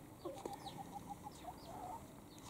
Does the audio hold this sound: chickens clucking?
yes